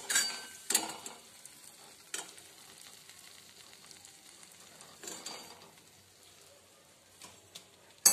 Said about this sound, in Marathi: कमी गॅस आचेवरच आपल्याला हे तळायचे आहेत